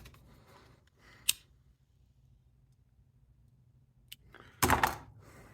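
Starter cable cut with cutters: a single sharp snip, a faint click later, then a louder crunching cut near the end against a quiet background.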